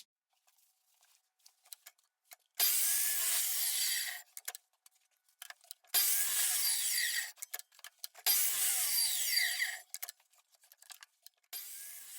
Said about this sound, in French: je vais utiliser ça pour couper les bandes